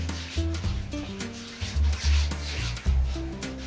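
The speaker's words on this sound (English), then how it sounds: "squeeze out your viridian. And just rub it all around the canvas." Fingertip rubbing viridian paint in circles across a canvas, giving soft, close scuffing and smearing strokes in short uneven bursts with no talking.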